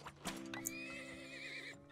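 A horse in the Turmoil video game gives a loud, bright whinny that rises and wavers for over a second, preceded by a couple of hoof clops.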